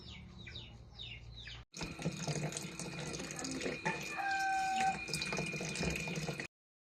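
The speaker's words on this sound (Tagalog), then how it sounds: "Naglagay na nga muna pala ako dito ng tubig sa pitchel." Water poured from a tap into a pitcher, a steady close splashing stream that starts abruptly and stops, with faint rooster and bird calls before it.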